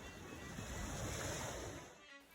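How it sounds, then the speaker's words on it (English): Ocean waves roll onto the Gaspé Coast shore in a steady loud wash with some wind noise, swelling through the middle and fading at the end, with no voices. "watching the waves roll in"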